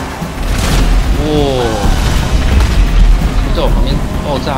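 A meteor explodes close by in the game GTA 5 as a loud, rumbling boom with deep sustained low rumble, mixed with excited shouting and talking over it.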